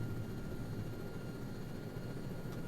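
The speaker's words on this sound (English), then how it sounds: "It's an enemy helicopter." An enemy helicopter in the video game Arma 3 with a Vietnam-era mod gives off a steady low rotor and engine drone at a moderate level, continuous and unchanging, with no voices.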